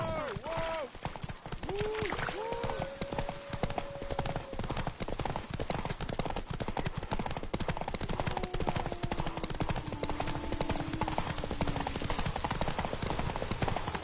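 Horses galloping in the video game The Witcher 3: a fast, steady drumming of hooves runs throughout, close and prominent, mixed with other game sounds.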